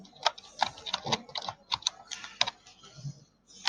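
Fingers typing on a computer keyboard, an uneven run of close, crisp key clicks with short pauses between bursts, no speech.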